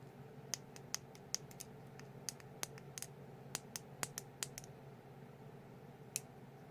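Fidget Cube buttons are pressed repeatedly, giving a quiet, irregular series of small, crisp plastic clicks, some sharper and some softer, over faint background hum.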